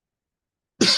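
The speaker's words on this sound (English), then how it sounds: "I have a little cough." A single short, harsh cough bursts out abruptly at the very end after silence, close to the microphone.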